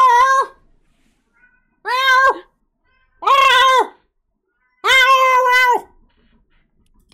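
A person imitates a cat with four loud, drawn-out meows spaced through the stretch, the last one longest, with near silence between them during a Fortnite session with friends.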